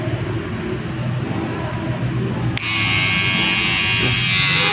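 Kemei KM-1102 electric shaver buzzing steadily up close, then turning abruptly harsher and higher-pitched when used for trimming.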